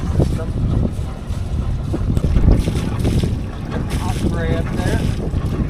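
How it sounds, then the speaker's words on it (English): A boat motors through the narrow Santa Clara canal lock system near Sarasota, its engine drone rumbling low and continuous beneath heavy wind buffeting on the microphone. "We're motoring on down the Santa Clara Canal lock system."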